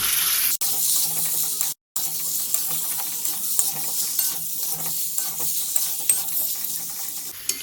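Fried potatoes are stirred into sizzling spiced masala for aloo dum, giving a continuous hiss of frying with a steady run of soft scraping and stirring strokes and a couple of brief gaps.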